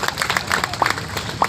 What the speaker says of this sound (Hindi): यहाँ से जो सम्मानित हुए हैं उन बालिकाओं के लिए मैं जोरदार तालियों के साथ स्वागत करना चाहती हूँ